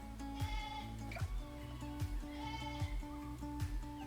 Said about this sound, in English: Can you hear that goat?